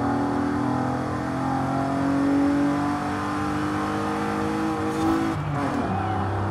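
A Cadillac limo's engine drones and revs steadily while racing in first person in Forza Horizon 5. The engine note climbs loud and close, then breaks with a gear change near the end, with no talking.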